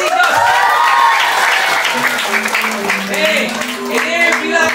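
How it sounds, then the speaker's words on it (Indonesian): An audience at a character camp claps in a dense burst of applause that dies down while people talk over it. "Tepuk tangan buat PC, Jos."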